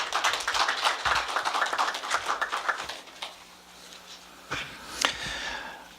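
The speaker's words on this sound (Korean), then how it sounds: "다시 한번 뜨거운 박수를 부탁드리겠습니다" A seated audience at a Seoul policy forum on neighborhood media claps for presenters, a dense burst of hand claps for about three seconds that thins into a few scattered, separate claps before fading out.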